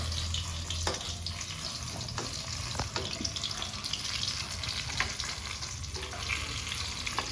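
Food frying in a pan while making martabak, a steady close sizzle with small crackles and pops running throughout, with occasional clinks.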